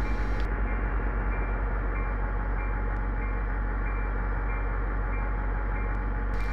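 A train in Train Simulator 2015 on the route from West Palm Beach to Fort Lauderdale accelerates slowly on low power, a loud, steady engine rumble with a constant low drone and faint clicks.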